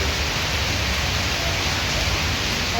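Heavy rain falling outdoors during a rangoli competition, a dense, unbroken hiss that stays loud and even throughout with no voices.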